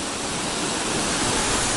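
Steady, dense roar of a waterfall, Burney Falls area along the Pacific Crest Trail, a loud continuous broadband rush with no pauses and no voices.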